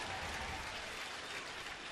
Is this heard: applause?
yes